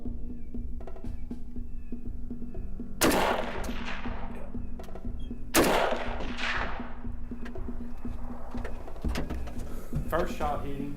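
Two loud, sharp rifle shots fired at a coyote from a hunting shack on a hillside, a few seconds apart, each with a brief decaying echo over steady background noise, with a voice speaking near the end.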